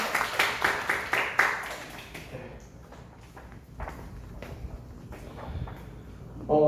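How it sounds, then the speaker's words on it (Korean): Clapping from a youth congregation at a middle and high school church service, a brisk run of rhythmic claps up front that thins into scattered, quieter claps and shuffling noise. "우리 뒤 돌고 인사할 때 큰 박수로 격려해 주세요"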